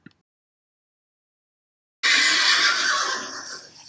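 A horse neighing sound effect in a read-aloud children's story, a bright, loud whinny that bursts in after two seconds of silence and carries on for nearly two seconds, alone with no voice over it.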